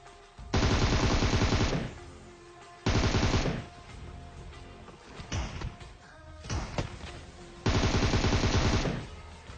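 Rapid automatic gunfire in the mobile shooter PUBG rattles out in three loud, sustained bursts of roughly a second each, separated by quieter stretches of scattered shots and clanks.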